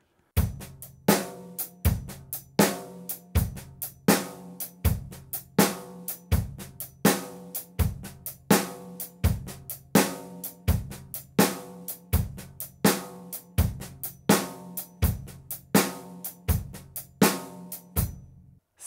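A drum kit plays a steady groove with strong, evenly spaced hits and softer snare ghost notes between them, with no voices.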